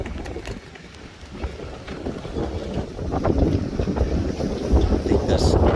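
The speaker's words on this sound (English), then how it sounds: "I think we got like 50-mile-an-hour winds." Strong hurricane winds of about fifty miles an hour roaring steadily around moored sailboats off Cat Island, a dense rushing buffet with microphone wind noise that swells louder toward the end.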